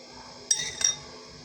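A spoon clinks twice against a bowl while four tablespoons of garlic sauce are mixed in for homemade shawarma, two sharp taps close by over a quiet background.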